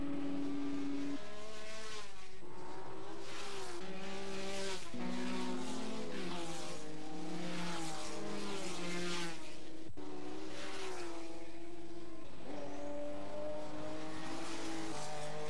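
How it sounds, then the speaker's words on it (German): A Porsche 935 race car at the 1976 Le Mans 24 Hours runs flat out down the straight, its loud engine howling in long sustained tones that rise and fall through the gears, with no voices over it. "336 km/h Spitze läuft der Porsche 935 auf der Geraden."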